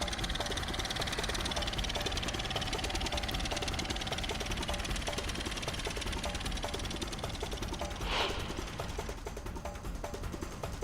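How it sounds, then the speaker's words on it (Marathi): A farmer's homemade tractor built from scrap parts, its engine running with a steady rapid knocking chug, close and even throughout, a brief squeak near the end. "मुक्ताईनगरमधल्या नायगावात एका शेतकऱ्यानं भंगाराच्या वस्तूंपासून ट्रॅक्टर बनवलाय"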